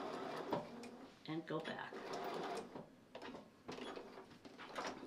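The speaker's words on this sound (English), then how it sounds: "I am going to just sew again" A sewing machine runs in short bursts while stitching a fabric hanging sleeve, its rapid mechanical chatter starting and stopping beside brief speech.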